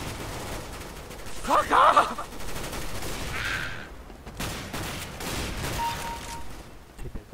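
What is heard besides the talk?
gunfire in CS:GO video game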